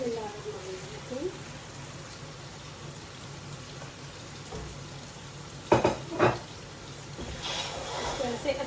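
Okra sizzles as it is stirred into meat frying in a pan. A steady, fairly quiet hiss runs throughout, broken by a few sharp scraping and clattering stirs near the middle, with some voice alongside.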